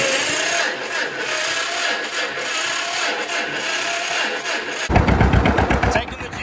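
An old G tractor engine, its battery boosted by a jumper pack and choke pulled out, cranks and catches near the end, breaking into loud, close, rapid popping firing pulses after a steady mechanical whir.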